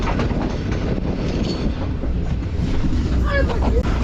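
Shalimar Express train running at speed in Pakistan's Sukkur division, a loud, steady rumble with wind buffeting from on board and a faint clickety-clack, close and continuous with no talk.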